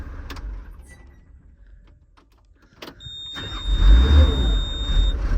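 An 850K crawler dozer's diesel engine cranks and fires right up after a quiet stretch, settling into a loud, steady rumbling idle.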